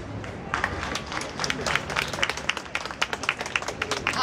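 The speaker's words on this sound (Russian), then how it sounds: "Аплодисменты, друзья!" A crowd at a flag ceremony in Simferopol applauds, a dense stream of sharp claps building after a quiet start and continuing steadily, with a voice faintly underneath.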